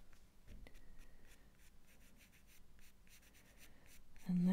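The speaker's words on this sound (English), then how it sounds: "So I flipped the film over and I'm just drawing on the back." Pencil drawing on the back of drafting film for a deerhound puppy portrait: soft, continuous scratchy strokes close to the mic, quiet throughout, with a brief louder knock at the very end.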